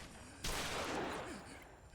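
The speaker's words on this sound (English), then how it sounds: "No, that's just a really heavy ass pistol." Heavy pistol gunshot from the Yakuza Kiwami 2 video game, a single loud, sharp blast whose reverberant tail fades over about a second and a half with no talk.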